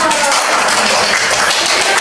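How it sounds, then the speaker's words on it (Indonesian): A classroom of students clapping for a classmate, a dense steady patter of many hands filling the room at close range without pause. "Tepuk tangan untuk Velo."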